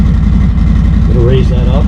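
A 2020 Harley-Davidson motorcycle with a slip-on exhaust, idling high around 1100 to 1200 RPM on a cold engine, producing a loud, close, steady low rumble while someone talks over it.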